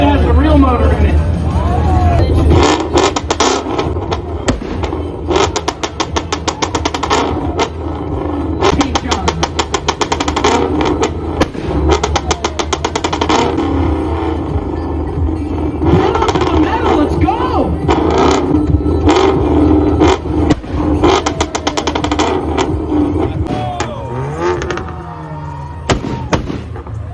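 A car engine at a flame-spitting exhaust competition revs loudly and repeatedly, with rapid crackling pops and bangs from the exhaust over a roaring motor, as crowd voices and talk come and go.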